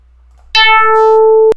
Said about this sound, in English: it sounds a little bit like a string